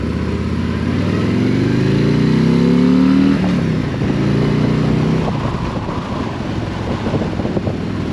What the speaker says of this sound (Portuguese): se puxarmos ali acima das 4000 rotações, o escape começa logo a abrir